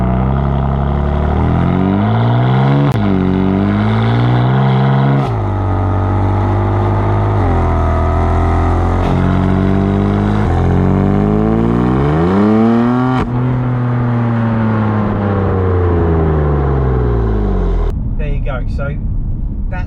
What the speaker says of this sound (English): So that's the sound you get from Sports Plus, which is pretty good for, you know, a 3-litre 6-cylinder engine